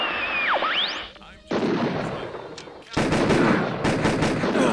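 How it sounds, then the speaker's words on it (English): Shotgun blasts in the video game Harvester, loud booming shots in bursts with brief gaps between them, heard after a sweeping electronic tone. "use your shotgun to kill the 2 enemies"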